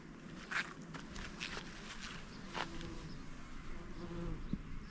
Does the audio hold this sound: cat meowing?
no